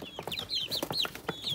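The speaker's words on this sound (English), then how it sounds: "the chickens are getting too big." Chickens cluck close by in a rapid, busy run of short, bright calls, several birds overlapping at moderate loudness with no voices.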